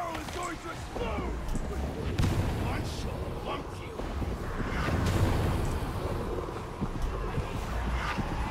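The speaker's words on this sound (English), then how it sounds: "The barrel is going to explode!" An explosive barrel bursts amid hectic combat in Warhammer 40,000: Darktide, with a loud blast at about two seconds and another around five, surrounded by constant gunfire, game noise and voices.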